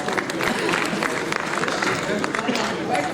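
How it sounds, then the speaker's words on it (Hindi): An audience claps at the Kadambari Alankaran & Samman Samaroh award ceremony, a literary honours event. The dense, sustained applause fills the room steadily, with a voice speaking over it. "तालियों के साथ अभिनंदन।"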